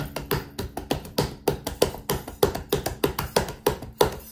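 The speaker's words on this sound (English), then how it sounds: "You can tap on the table." Hands tapping rhythmically on a table, a steady run of sharp, close knocks at roughly even intervals with no voices.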